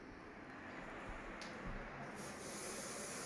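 A spray paint can sprays in a continuous, faint hiss while a glass is being painted, with slight surges in intensity and no talking.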